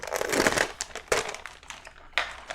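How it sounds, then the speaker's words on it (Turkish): A large plastic bag from a Mugen Seiki MTC2 radio-control car kit box being opened, giving loud, close crinkling and crumpling bursts with sharp rustles near the start, middle and end. "Şöyle ilk büyük paketimizi açalım."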